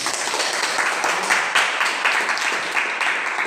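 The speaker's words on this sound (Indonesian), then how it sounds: "Oke, tepuk tangan." A group applauds, with dense, steady clapping that carries on throughout.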